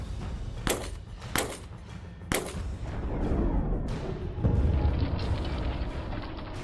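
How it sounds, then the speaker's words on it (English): Three sharp 9mm pistol shots from a Glock, 115-grain rounds, fired at a Tesla Cybertruck during a bulletproof test, spaced irregularly and loud and close, followed by a rumbling outdoor wash of noise. "9mm, 115 grain from a Glock"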